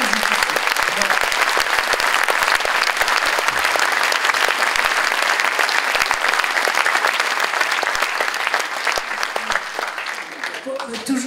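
An audience applauds loudly and continuously for about ten seconds, a dense, even roar of many hands clapping that eases slightly toward the end.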